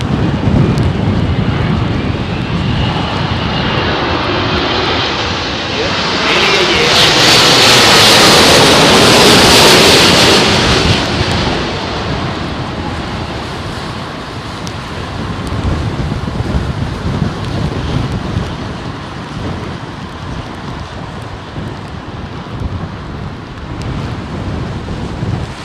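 Airliner landing in a crosswind at Heathrow Airport, a loud, continuous roar buffeted by heavy wind noise that swells to a peak midway, then settles into a steady rumble.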